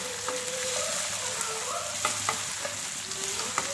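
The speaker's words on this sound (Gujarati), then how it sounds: "બધી જ વસ્તુ આપણે બરાબર મિક્સ કરી દઈશું." Potatoes, cumin, curry leaves and chilies fry in a pan under steady sizzling, with several sharp scrapes and clicks of a spoon stirring them.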